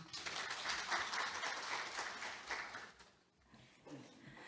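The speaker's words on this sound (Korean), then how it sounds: "큰 박수 부탁드립니다" Audience applause at a government innovation forum as a discussion moderator is welcomed, a quiet, distant burst of clapping that fades out after a few seconds.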